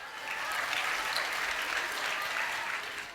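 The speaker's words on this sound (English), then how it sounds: "Another round of applause." Audience applause at an arts festival after a children's performance of grades 4 to 6, a dense, steady wash of many hands clapping that swells and holds for a few seconds.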